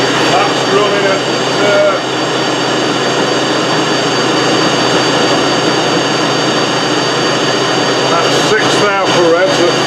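Motorcycle wheel arbour spinning at 6,000 revs in a workshop, a loud continuous high whine with steady tonal overtones, and a few short rising squeaks near the end.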